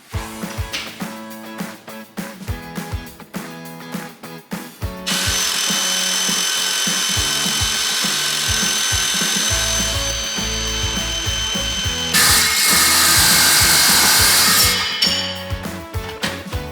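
Power tool cutting a circle out of aluminum scrap while rebuilding a farm truck axle, heard close and loud: repeated short bursts at first, then a long sustained grinding, whining cut that shifts pitch partway through before easing off.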